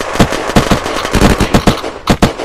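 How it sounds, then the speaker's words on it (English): A Yuri gun in the video game Unturned fires rapid, loud bursts of close automatic gunfire, a fast string of sharp shots with a brief pause before a final pair. "His buddy's shooting with a Yuri"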